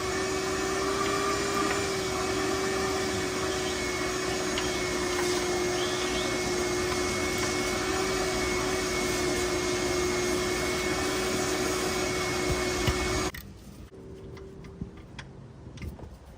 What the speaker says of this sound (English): 17mm socket with a 3/8 ratchet.